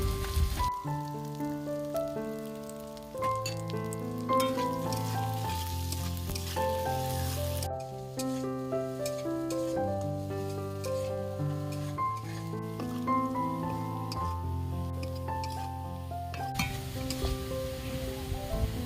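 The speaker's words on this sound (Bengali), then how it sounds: "আলুগুলো দিয়ে দিয়েছি এবার সামান্য একটু লবণ দেবো তাহলে আলুগুলো তাড়াতাড়ি ভাজাও হয়ে যাবে একটু নরম হয়ে যাবে" Potato pieces fry in hot oil with a little salt, a steady sizzle and occasional stirring under louder melodic background music, with no speech.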